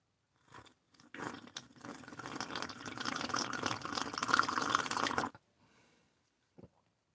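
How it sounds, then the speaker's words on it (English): Someone sips hot coffee with close, wet slurping and gulping that runs steadily for several seconds in a quiet room, followed by a couple of faint clicks. "Got to get some good coffee slurping noises, do that ASMR stuff"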